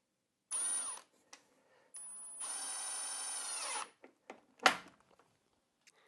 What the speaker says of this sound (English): I've got some screws, and I'm just going to put a couple of screws in